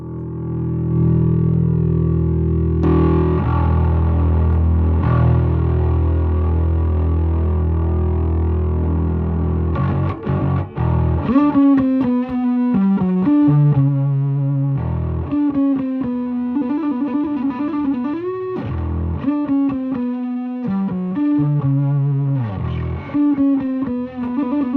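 A distorted bass guitar plays alone through an 8x10 bass cabinet: a sustained gritty drone at first, then a run of punchy, separated notes with a fuzzy, overdriven tone.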